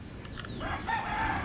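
Chickens in a yard near a parked vehicle, with a rooster's crow-like call and scattered clucks, fairly close against a low background rumble.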